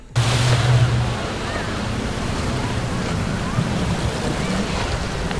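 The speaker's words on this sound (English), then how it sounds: "layering the seagull sound clip and the clip of waves hitting a boat" Steady wash of ocean surf hitting a boat, with a constant rumbling low end and wind-like hiss, continuous and fairly loud, with no voices.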